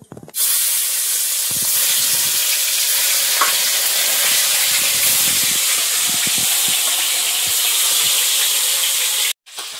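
Fish sizzling and frying in hot oil in a pan during home cooking, a loud steady hiss and crackle throughout with small spatters, cut off abruptly near the end.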